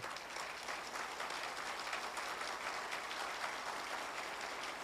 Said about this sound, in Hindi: उनके लिए जरा जोर से ताली बजाइएगा